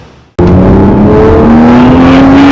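A 2020 Toyota Supra with a 6-speed gearbox bursts into hard acceleration, a very loud, close engine roar whose pitch climbs steadily without letting up.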